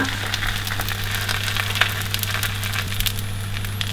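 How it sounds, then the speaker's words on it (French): Matzot frying in a pan, a loud continuous crackling sizzle with a low steady hum underneath, close and without talking. "nous allons commencer la cuisson des matzot à la poêle"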